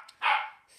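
A single short, sharp dog bark, moderately close and heard on its own.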